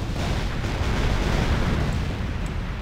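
Artillery in a WW2 battle simulator game produces a dense, continuous rumbling roar of distant cannon fire blended into one heavy wash, with no talk.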